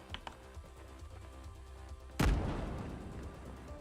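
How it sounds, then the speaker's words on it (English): A grenade goes off in a first-person shooter game, one loud, sudden blast that cuts through quieter background game sounds and music and then trails away in a long, rumbling decay. "It's a nice explosion."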